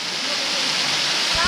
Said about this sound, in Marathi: आता आपला वॉटरफॉल बघायला मिळतो